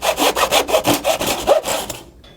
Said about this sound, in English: This product is made of pine and very easy to cut.